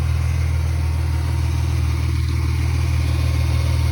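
A car engine runs steadily after a cold start, with a warmed-up idle and a stock factory air box. A constant, fairly loud low hum continues with no talk.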